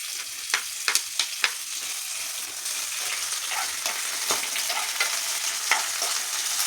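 Onion and tomato sautéing in a pan with spatula stirring, sharp clacks of the utensil against the pan early on over a soft steady sizzle, close and without talking.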